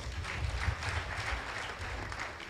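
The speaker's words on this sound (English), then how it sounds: "Let's give him a quick round of applause." A quick round of applause from an audience at a ministerial inauguration ceremony, soft and fairly distant, an even patter of clapping that holds steady throughout.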